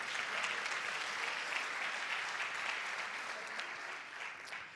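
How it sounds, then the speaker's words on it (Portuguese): A church congregation claps during a worship service, the sustained applause steady and moderately soft throughout, with no speech over it. "Aplauda Jesus."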